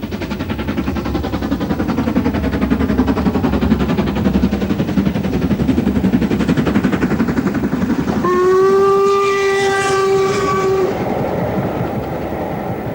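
LMS steam locomotive 5305 Alderman A.E. Draper works the West Highland Line, a loud, rhythmic chuff and rumble of the passing train broken by a long, clear whistle blast near the end.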